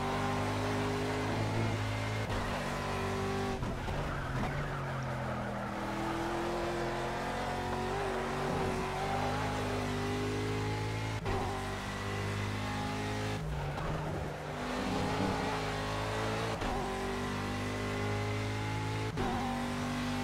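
Aston Martin V8 Vantage GTE race car in Project CARS at Le Mans, its engine droning loud and steady throughout with rising and falling harmonics as it revs through gears, plus brief skidding tire noise.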